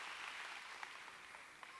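A church congregation applauds in a steady, dense wash of clapping, heard at a distance and fairly faint, with no other sound standing out.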